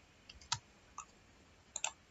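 Sparse keystrokes on a computer keyboard while typing Python code for a Django tutorial: a handful of faint, crisp clicks in small clusters with quiet gaps between them.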